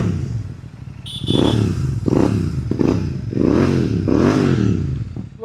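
Superbike engine fitted with an aftermarket Race Pro exhaust, revved repeatedly in several loud, rising and falling bursts up close, with no talking.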